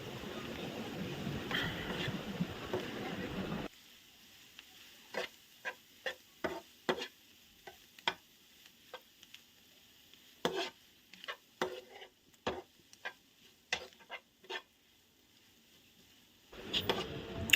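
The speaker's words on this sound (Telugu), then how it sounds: "కారం మొత్తం కలిసేటట్టు బాగా కలుపుకోవాలి" Beef curry with chili powder stirred in a pot, a brief frying rush, then a quiet stretch of scattered spoon clinks and scrapes at irregular intervals before the sizzle swells again, close and fairly soft.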